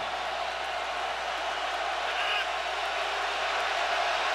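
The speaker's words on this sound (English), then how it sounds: "Again, this loud crowd." A loud football stadium crowd roars in a broad, steady wash of noise at a Green Bay versus Seattle game, continuous and distant-sounding, with no distinct cheers standing out.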